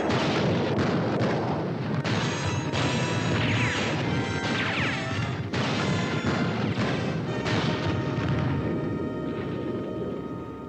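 A cartoon explosion of a white mouse fills the whole stretch with loud, sustained crashing and rumbling, broken by repeated sharp bursts and debris-like impacts, with no voices.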